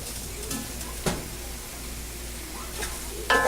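Chilli parotta tossed with ketchup and masala in a hot pan over a low flame gives a steady soft sizzle, broken by a sharp utensil knock near the start and a louder scraping clatter at the end.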